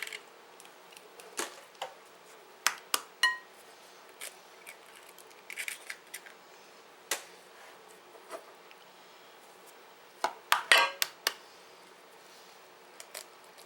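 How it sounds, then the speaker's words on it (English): Four eggs are cracked into a bowl, giving sharp taps and crisp cracking clicks spaced irregularly through a quiet room. The clicks cluster toward the end, and no one speaks. "I've never been good at cracking eggs."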